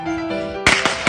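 Firecrackers bursting in quick succession, three or four sharp loud cracks following a steady hum, with no talk over them.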